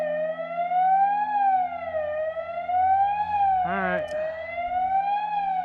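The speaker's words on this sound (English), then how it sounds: "That's the sirens. They're about to release water." A loud dam warning siren at Buford Dam wails continuously, slowly rising and falling in pitch, signaling an imminent water release. A person briefly speaks partway through.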